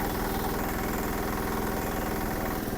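A Japanese agricultural vehicle's engine idles steadily, a loud, close, continuous low rumble with an even mechanical pulse and no talking.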